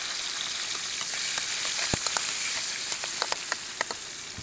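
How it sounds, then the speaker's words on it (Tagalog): Garlic, onion and tomato sautéing in a pan for pork binagoongan, a dense continuous sizzle with frequent crackles and spits, heard alone without voices. "magisa na ng bawang, sibuyas, at kamatis"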